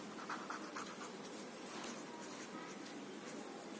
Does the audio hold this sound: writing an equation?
yes